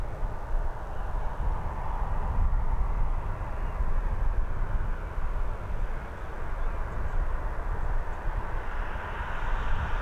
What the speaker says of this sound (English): we've got this Aer Lingus A320 now on its final approach